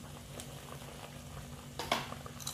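Broth for a rice-vermicelli noodle soup with vegetables bubbling in a pot, a soft steady simmer with low bubbling and a few small pops, close by and fairly quiet, no talking.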